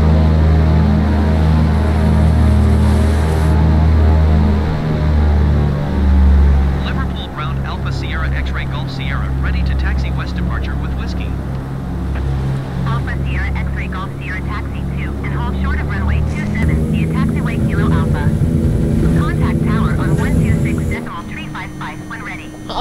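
A propeller aircraft engine starts up in Microsoft Flight Simulator and settles into a loud, steady, humming drone that shifts in pitch partway through, with someone talking over it throughout.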